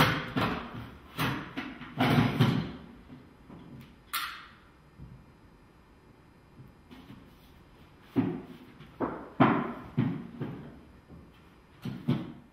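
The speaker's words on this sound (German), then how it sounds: "Öffnen Sie den hinteren rechten Sitz, um die Werkzeuge herauszuholen." Someone opens the rear right seat of a Renault Grand Scenic to reach the tool storage. Close thumps, clicks and plastic knocks come in two bursts with a quieter stretch between them, and no one speaks.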